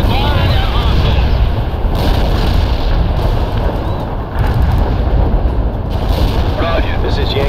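Gunfire, artillery and explosions from combat units in the World in Conflict real-time strategy game, a dense continuous roar of blasts and shots with radio-style voices talking over the battle.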